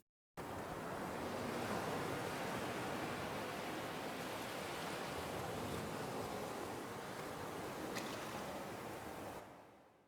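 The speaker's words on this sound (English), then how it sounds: "To set a mood, I started with ocean ambience." Steady ocean surf ambience, broad continuous wash of waves used as a mood-setting sample, loud and even throughout before fading out at the very end.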